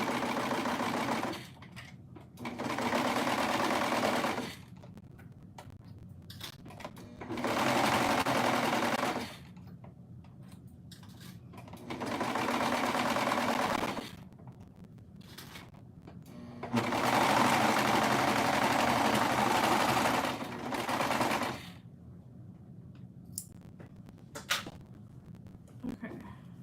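A sewing machine stitches in five separate bursts of a few seconds each, loud and close, with quiet pauses between runs and some talk during the gaps.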